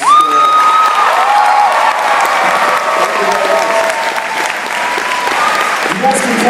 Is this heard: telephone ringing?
no